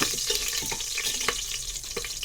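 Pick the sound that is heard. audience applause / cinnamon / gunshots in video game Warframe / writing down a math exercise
cinnamon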